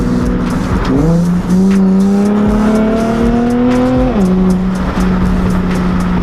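A loud Nissan 370Z exhaust with a Tomei system roars and revs, pitch climbing and falling in sustained pulls, close and aggressive with no one talking.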